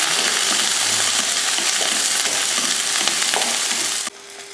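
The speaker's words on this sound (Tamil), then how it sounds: "சேர்த்துட்டு கொஞ்சம் எண்ணெய் ஊற்றி இதை வதக்கிடலாம்." Shallots, garlic and ginger sizzle steadily in hot oil in a pan, a loud continuous crackling fry that drops off abruptly near the end, with no voices.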